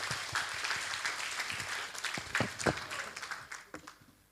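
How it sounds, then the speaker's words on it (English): Audience members at an international conference clap for a speaker, a moderate round of individual claps heard close, tapering to a few scattered hits before fading. "Please give Dr. Narapon a warm round of applause."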